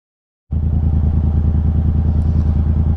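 A 1976 Honda CR125 Elsinore two-stroke motorcycle engine bursts into a loud, close, steady idle after a moment of silence, with a rapid even popping beat throughout.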